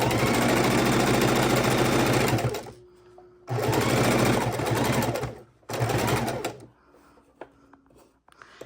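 A sewing machine stitches fabric for a microwave potato bag in rapid loud mechanical bursts, running about two and a half seconds, then two shorter runs separated by quiet pauses with faint handling clicks.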